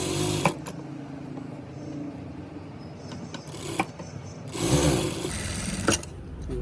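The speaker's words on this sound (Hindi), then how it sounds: "इसे पलट के ऊपर से हम सिलाई कर लेंगे।" Domestic sewing machine stitching the sleeve of a salwar suit, a steady close whirring run with slight shifts in pace and a few brief clicks.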